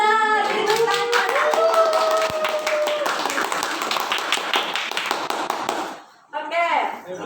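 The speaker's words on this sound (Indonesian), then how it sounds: "Beri tepuk tangan." A classroom of students claps hands in a quick, sharp rhythm of individual claps, mixed with children's voices and a sustained tone, briefly pausing before talk resumes.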